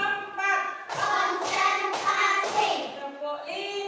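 Children in a classroom clapping hands together in a patterned rhythm, sharp grouped claps alternating with chanted voices, close and lively.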